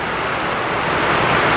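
Rain falls in a loud, steady, even hiss that fills the whole moment without pause, with no voices.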